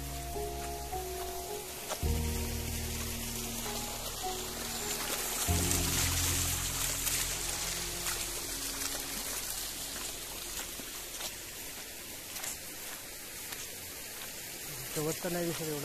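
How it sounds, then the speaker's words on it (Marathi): Steady rain pours down on a village, a continuous dense hiss across the whole stretch, fairly loud and close, with low tonal droning sounds and some voices underneath. "पाऊस आला"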